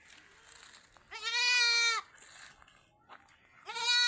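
Malabari goat kids at a livestock sale give two loud, close, quavering bleats separated by a short quiet gap.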